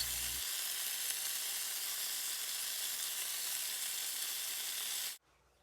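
Stuffed tomatoes and jalapeño peppers fry in a hot pan with a loud, steady sizzle that continues without a break and then cuts off abruptly just before the end.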